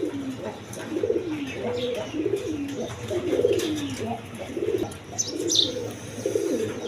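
Pigeons offered for sale, including a quality pair of fancy breed birds, coo in repeated low, throaty rolls close by, with faint chirps and background noise throughout.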